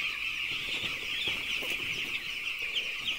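Chickens clucking steadily close by in a poultry shed while the birds are being vaccinated, a dense continuous chorus of fowl calls with occasional rustling and no one speaking.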